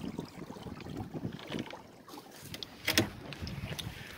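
A small sailboat on the CROW sail trip glides through water in a steady wind near Penetang Harbour, with close, continuous wash and splash against the hull and a few brief louder slaps.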